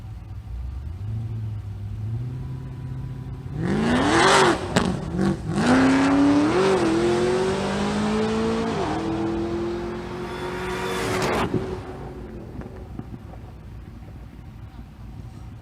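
Drag racing cars accelerate down the strip, a rising engine roar that swells sharply, climbs in pitch through gear changes, then fades away, with a commentator talking over it.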